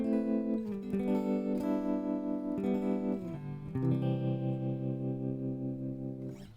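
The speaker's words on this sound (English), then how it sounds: "And that's the tremolo. There's a little bit of reverb on there." Electric guitar chords through a Boss Katana 100 amplifier pulse with a wavering tremolo, washed in reverb, ringing on and fading out at the end.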